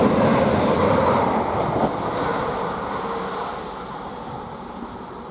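A Class 755 train passing through Waterbeach station makes a broad rolling rumble with faint clatter from the rails, loudest at the start and slowly fading as it moves away.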